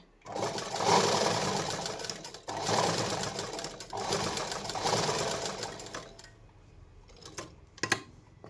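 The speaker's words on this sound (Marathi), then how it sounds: "आपल्याला आता शिलाई मारून घ्यायची" Sewing machine stitching a katori blouse, a loud close steady whirring run in three bursts with brief pauses, then a few clicks and taps as it stops.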